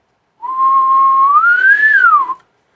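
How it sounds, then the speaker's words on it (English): A single sustained mouth whistle, the ordinary lips-pursed kind, holds one steady tone for about two seconds, then glides gently upward and falls back before stopping; loud, close and alone. "It's the normal whistle."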